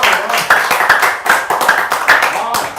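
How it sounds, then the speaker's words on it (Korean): At a lecture hall, an audience claps in a brisk, steady rhythm to greet a speaker, loud and close, with voices mixed in. "여러분 박수로 안녕해 주세요."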